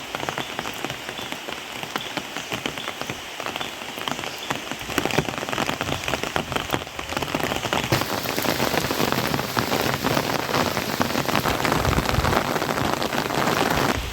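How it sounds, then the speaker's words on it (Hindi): Heavy rain pours down in a pine forest at Dow Hill, Kurseong, a loud, dense, continuous hiss of drops on foliage and ground that swells slightly in the second half, with no voices. "बहुत तेज़ बारिश हो गई है. मैं आपको बारिश का नज़ारा दिखाऊँगी पाइन फॉरेस्ट का."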